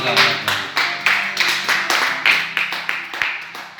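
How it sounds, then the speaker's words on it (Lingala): A church congregation at a Sunday service claps together in a steady, rhythmic beat, loud and close, with voices mixing in beneath the clapping. "On acclame."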